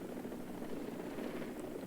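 Mi-4AV helicopter in the video game War Thunder: a faint, steady rotor and engine drone with no voices.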